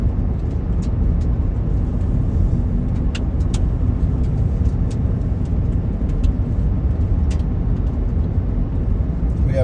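Car descending a long steep mountain grade in the Bighorn Mountains, Wyoming, heard from inside as a steady, loud low road and engine rumble with no pauses, and faint ticking clicks above it.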